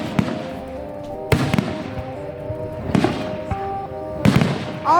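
Fireworks exploding at a beach on Canada Day, with three or four loud booming bursts spaced across a few seconds, each trailing off in crackle and ringing tones.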